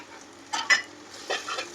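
Spices are stirred into Maggi noodles in a pan, with two quiet scraping strokes of a spoon against the pan over a faint sizzle.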